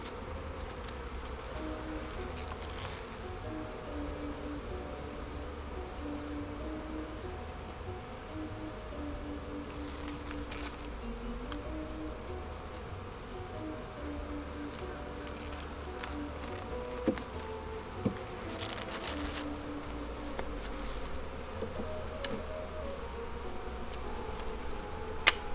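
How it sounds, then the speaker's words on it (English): Bees buzzing steadily around a weak second beehive, a continuous low hum of many insects close by with occasional faint ticks and taps, no talking. "There's a decent amount of bees"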